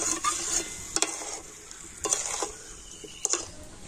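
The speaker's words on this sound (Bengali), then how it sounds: "এইভাবে নাড়াচাড়া করে তো চিনি কিন্তু একদম গলে জল হয়ে যাবে।" Sugar melting down for a sweet-sour-spicy raw mango pickle is stirred in a pan, with a soft steady sizzle broken by three distinct scraping strokes, close and moderately quiet, no talking.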